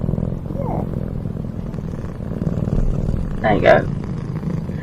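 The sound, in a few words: cat purring, Healing Kitty sound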